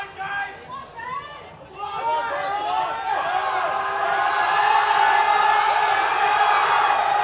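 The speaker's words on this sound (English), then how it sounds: "The crowd's gone mental." A powerlifting crowd at a deadlift attempt of 300 during an invitational meet erupts into loud cheering and whooping, with scattered shouts that build into a sustained roar.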